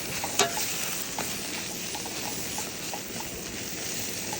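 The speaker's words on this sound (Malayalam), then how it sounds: "ഇളക്കിയിട്ട് അടി പിടിക്കുന്നൊരു ഘട്ടം വരെ നോക്കണം." Masala spice powders stirred and frying in a pan, cooked roadside during a truck journey: a steady, close sizzle with soft scraping strokes throughout, no voices.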